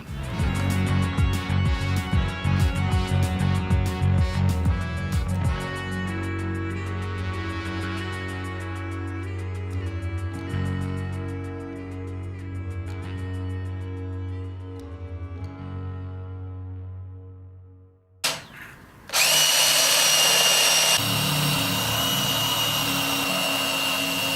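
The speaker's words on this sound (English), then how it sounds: "I'm using a belt sander that works really well." A belt sander shaping an antler ring, a loud steady motor whine with a fluctuating grinding tone that stops briefly near the end, then restarts with a harsher, brighter rasp, close and without talk.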